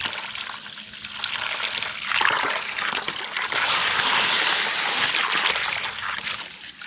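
Running water splashes and trickles steadily while stuff is washed out outdoors at a shed-to-house build, a continuous close hiss that swells louder midway before easing off.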